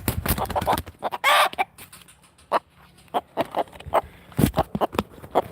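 A rooster on a goat and chicken farm clucks in quick repeated bursts, loud and close, with irregular sharp calls spread across the clip and a brief rustle in the middle.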